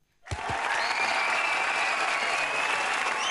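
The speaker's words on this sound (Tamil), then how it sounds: "உங்களுக்காக ஸ்பெஷலா ஒரு கைத்தட்டல் தலைவா" An audience bursts into applause for a dance master, starting suddenly after a brief silence and then holding as steady, full clapping from a large crowd.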